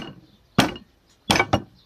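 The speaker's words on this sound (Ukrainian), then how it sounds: "Але поки що спробую молотком." A homemade hammer, built for a person with a cervical spine injury, strikes three times: one sharp knock, a pause, then two quick close raps, crisp and near, with quiet between blows.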